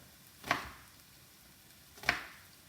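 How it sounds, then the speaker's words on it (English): Two separate knife cuts through an onion on a cutting board, made while dicing it for a beef stir-fry. The strokes come about a second and a half apart, each a crisp, close, moderately loud slice, with quiet between them. "just to give you some idea how I cut the onions up"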